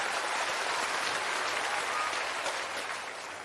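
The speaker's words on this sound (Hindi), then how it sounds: "एक बार जोरदार ताली बजाइए आदरणीय प्रधान जी" Crowd applause at a Prashant Kishor public dialogue gathering in Patarghat Block: dense, steady clapping from a large audience that holds for several seconds and then fades slightly.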